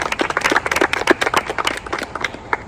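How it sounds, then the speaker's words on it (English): A small crowd of game-show contestants claps on a competition set, delivering a quick, uneven spatter of close handclaps that stays fairly loud for a couple of seconds before thinning out. "Give yourselves a round of applause"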